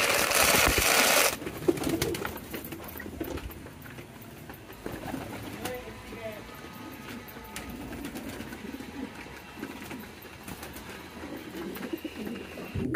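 Pigeons in a pigeon farm at night keep up a low, rolling cooing, with many birds overlapping close by. A loud rush comes at the start, then the cooing carries on steadily.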